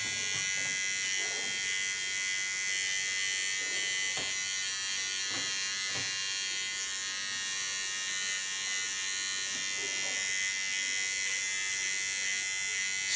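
An electric hair clipper buzzes steadily and close while cutting short hair, held upside down along the skin to trim fine outline edges, with faint taps and shifts of the blades.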